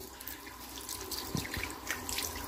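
Water runs steadily from a tap as someone passes their hands under the stream, a continuous close splashing hiss with a few brief drips and knocks.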